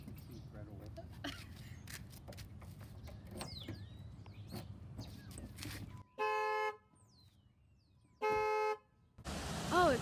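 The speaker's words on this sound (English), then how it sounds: "Open it, and then it might alarm might go off" A car alarm blares in two loud, sustained honking bursts after a stretch of street noise and clicks, ending with a voice.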